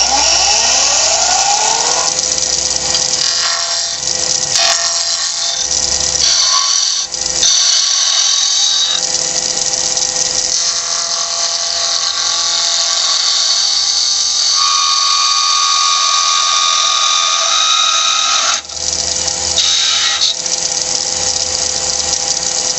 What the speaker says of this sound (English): basically just turning the bottom into a spherical bottom with a little flange on the bottom of it